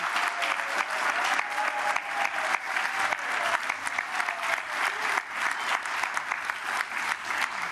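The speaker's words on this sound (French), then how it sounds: "Ils vont t'applaudir." Sustained public applause from a live audience at Les Sables d'Olonne during a Vendée Globe 2024 broadcast, dense and steady for the whole stretch with a faint voice beneath.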